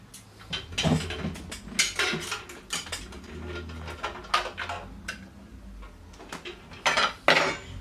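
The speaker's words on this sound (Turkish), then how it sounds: "Şimdi sıcak kapağını koyalım." Metal lids clink and rattle against glass jars as they are screwed onto hot jars of eggplant preserve in a kitchen, giving a string of sharp, irregular clatters and scraping twists at close range.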